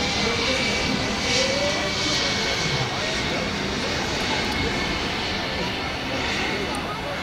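RC B-52 scale model planes, each with four electric motors, flying overhead: a loud, steady droning whine that holds without a break and swells slightly, like a distant aircraft passing.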